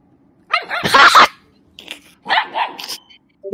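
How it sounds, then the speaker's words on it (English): A pug gives a few short, harsh barks and yips in quick clusters, close and loud, with brief gaps between the bursts and no voices over them. "Oh my god, a dog and a turtle! A pug."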